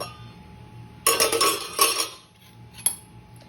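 A spoon stirs ginger curd (inji thayir) in a bowl, giving a burst of close clinks and scrapes against the dish for about a second, then another short bout, with a single sharp clink near the end.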